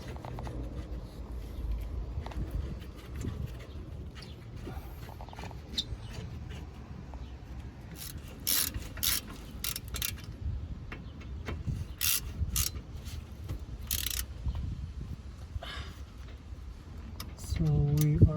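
A ratchet tightens the 17mm caliper bracket bolts on a Toyota Auris, giving faint intermittent clicking bursts over a quiet mechanical background with some low handling noise.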